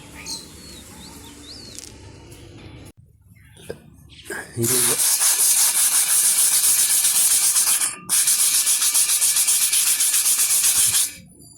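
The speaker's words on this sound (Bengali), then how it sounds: "এই যে এখানে ঝং ধরে গেছে এই এটা ঘষে রং করতে হবে এখন ওটা ঘষবো" A rusted iron rod from a rooftop being rubbed down by hand, a loud, close, harsh scraping that runs in sustained strokes with one brief pause, after some quiet handling noise and faint birdsong.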